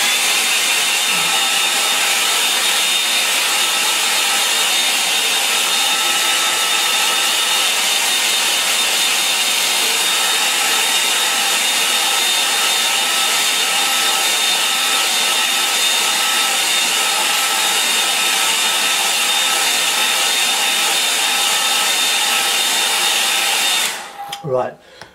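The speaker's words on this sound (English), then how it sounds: "I'm going to fix that now with a hairdryer." A hairdryer blows steadily on watercolour paper for about 24 seconds, a loud continuous whooshing hiss that cuts off abruptly near the end, followed by a brief spoken word.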